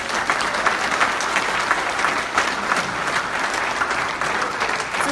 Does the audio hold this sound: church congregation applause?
yes